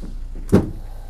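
A single short mechanical clunk of the rear doors of a 2019 Mercedes-Benz Metris cargo van opening, close by, with a brief rattle after.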